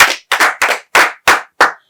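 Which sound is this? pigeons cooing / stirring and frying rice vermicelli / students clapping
students clapping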